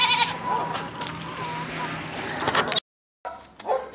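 Goats bleat close by in several short calls at milking time, with a brief silent gap and more bleating afterward.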